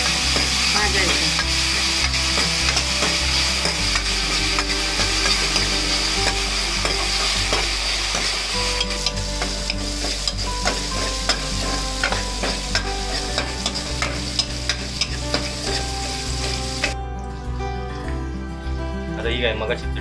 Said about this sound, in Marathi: आणि आता हा टोमॅटो टाकला